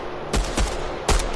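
Three sharp gunshots from a video game firefight ring out close and loud in uneven succession, two fairly near together and a third after a short pause.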